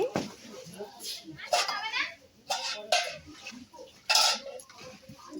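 Semolina and sour curd batter is mixed in a bowl, with scattered clinks and scraping knocks of a utensil against the bowl under a voice talking nearby.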